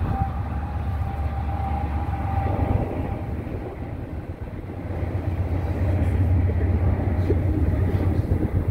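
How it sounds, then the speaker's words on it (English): A long freight train rolls past below a bluff in La Crosse, Wisconsin, a loud sustained rumble and clatter of railcars that dips briefly midway then swells again, continuous throughout. "That's a long train."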